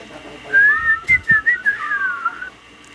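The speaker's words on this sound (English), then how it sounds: "here we have the whistling man" A man whistles a short, bright melodic phrase, clear and close, with a few quick notes and slides lasting about two seconds.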